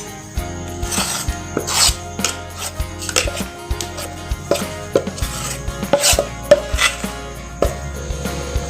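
A spatula scrapes beaten eggless sponge cake batter made with maida flour from a bowl into a flour-dusted pan for a pressure cooker. Repeated close, scratchy scraping strokes come in an uneven rhythm, with no talking.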